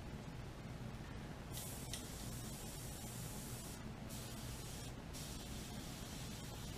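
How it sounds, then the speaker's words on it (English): An airbrush sprays paint over a surface covered in years of old paint, giving a steady, close hiss that runs through the whole stretch, with brief breaks in the spray between bursts. "so I'm just gonna spray it and see what it does."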